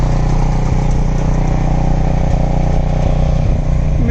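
A generator engine runs steadily inside a quiet box with a 1,000 CFM fan, close and loud. It keeps a constant mid-pitched drone, and the backfiring does not stand out clearly from the running noise.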